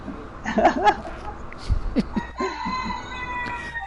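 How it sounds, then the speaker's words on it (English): Hungry chickens outside a door cluck and squawk in an uneven run of calls, some rising into crow-like cries, heard at moderate loudness with a voice chattering alongside. "there's a lot of chickens here. They're not in my house. They're like outside the door. They're yelling because they're hungry."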